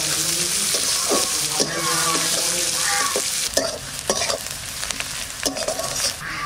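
Onions frying in hot oil with bay leaves and whole garam masala, a dense continuous sizzle with intermittent stirring scrapes, close and fairly loud.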